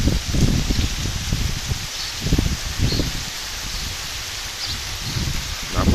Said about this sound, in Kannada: ಜೋರು ಮಳೆ ಇದೆ ಈಗಲೂ